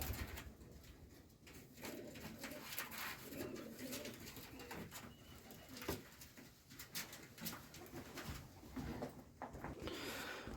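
Young wood pigeon chicks being hand-fed indoors on a table, giving soft repeated cooing and squeaky calls close by, with light handling noises throughout.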